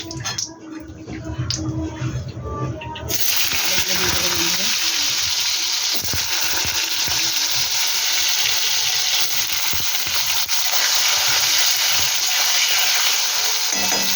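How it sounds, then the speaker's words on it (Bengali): Potatoes fry in hot oil in a home kitchen pan, a steady loud sizzle running on without a break after a short quieter start, with clattering stirs underneath. "তেল দিয়ে আলুগুলো ভেজে নেবো বন্ধুরা।"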